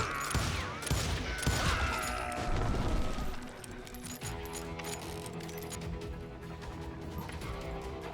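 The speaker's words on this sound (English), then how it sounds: "They're shooting in the street." Street gunfight in the Western game Call of Juarez Gunslinger: a rapid burst of overlapping gunshots and crashes up front, then scattered shots and metallic clatter fading into a busy background.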